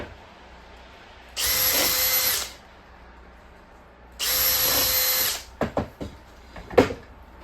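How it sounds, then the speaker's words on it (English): A power drill pre-drills holes in a wooden board for a bluebird house, two sustained high-pitched whirring bursts about a second each, followed by a few short scraping and knocking sounds. "If you're pre-drilling your holes, you can just pre-drill holes"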